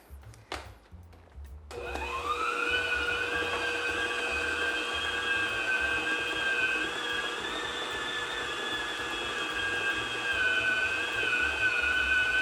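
A stand mixer whirs steadily as it beats choux pastry dough for sugared cream puffs, eggs being added; after a brief clatter the motor spins up and holds a loud, even tone with a rising pitch throughout.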